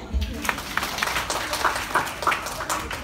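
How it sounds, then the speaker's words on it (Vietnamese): An audience applauds a volunteer at a live stage event, with a burst of scattered clapping heard under and around a presenter's voice. "Một tràng pháo tay cho bạn"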